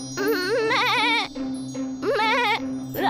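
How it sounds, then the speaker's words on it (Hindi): A goat bleats three times, each call loud, wavering and close, separated by short pauses, with no speech around it. "बकरी खुद से कहने लगी"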